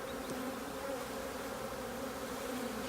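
Honeybees drone in a steady, dense buzz at an open hive during the merging of two colonies, continuous and close with no talking.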